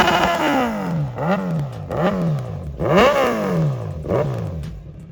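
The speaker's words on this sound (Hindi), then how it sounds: "वो है यहाँ पर फुल सिस्टम एग्जॉस्ट। पहले तो मैं आपको साउंड भी चेकआउट करा देता हूँ।" A Kawasaki Z900 motorcycle with a full-system aftermarket exhaust, revved in four or five sharp blips that climb and fall back, loud and close with no talking.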